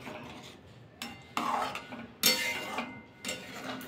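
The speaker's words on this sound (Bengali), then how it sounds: "ফুটে গেছে, একটু নাড়াচাড়া করে নেব" Kabuli chickpea and cauliflower curry stirred in a pot after coming to a boil, with a few distinct scraping clinks of a spoon against metal and soft background bubbling, close and moderately quiet.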